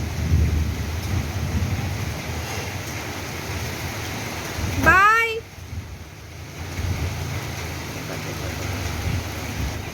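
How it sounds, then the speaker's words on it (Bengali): A torrential downpour during a thunderstorm: a loud steady wash of rain, low rumbling thunder, and a brief rising harmonic chirp midway before the rain hiss continues. "প্রচণ্ড জোরে মুসলধারে বৃষ্টি হচ্ছে সাথে সেইভাবে বিদ্যুৎ চমকাচ্ছে"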